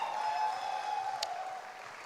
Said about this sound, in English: can we have a huge round of applause for the organizers